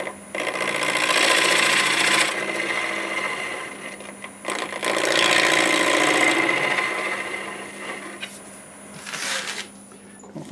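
A wood lathe turns a multi-axis square bowl while a tool flattens the face, giving a steady, loud whirring cut with intermittent catching chatter, a brief pause around four seconds, then resuming before fading.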